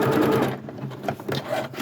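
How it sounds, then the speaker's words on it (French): Sewing machine running a short burst of small zigzag stitches across the end of an elastic band for a detachable Victorian collar, a steady close mechanical whir with rapid needle pulses. "Et je vais même faire des petits points zigzag au bout, pour pas qu'il s'effiloche."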